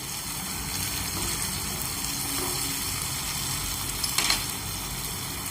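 Tomato puree made from three tomatoes poured into a hot frying pan for dhaba-style paneer masala, giving a steady close sizzle and frying hiss with a brief louder splash near the end.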